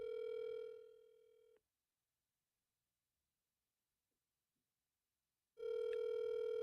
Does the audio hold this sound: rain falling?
no